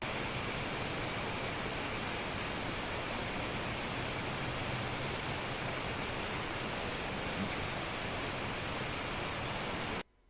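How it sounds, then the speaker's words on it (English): Ambient sound of the deep sea recorded underwater: a steady, dense broadband hiss and rumble that holds evenly throughout, then cuts off abruptly at the very end. "So this is the ambient sound of the deep sea."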